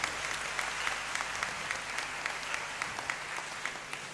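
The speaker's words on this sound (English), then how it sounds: "Let's give a big round of applause to him." Graduation ceremony applause in a large hall, a continuous even wash of many hands clapping with no break, fairly distant and unaccompanied by talk.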